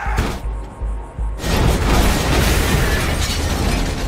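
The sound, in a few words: car exploding in Tulsa King TV series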